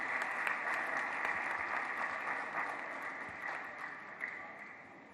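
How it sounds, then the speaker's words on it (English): Audience applause at an official launch ceremony, a broad crowd clapping steadily and evenly for several seconds, moderately loud in a large room, slowly thinning toward the end. "Another round of applause for Dr. Iheanacho."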